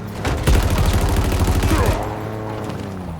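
Rapid, loud gunfire from Halo Infinite combat rattles in a dense burst for about two seconds, then stops, leaving ringing echoes and background game noise.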